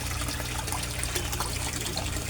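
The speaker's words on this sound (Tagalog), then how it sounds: "ang air pump naman guys, i-on natin guys ha." An aquarium air pump runs in a koi fish setup, pushing a steady, even stream of bubbling, trickling water at low volume, with no voices present.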